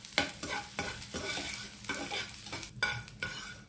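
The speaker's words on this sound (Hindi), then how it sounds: "इसी पैन में हम अपना बचा हुआ गोंद जो है वो भी डाल देते हैं और भून लेते हैं इसको भी" Edible gum (gond) roasting in ghee in a pan for a Janmashtami offering: steady close sizzle broken by several scraping stirs, no voices.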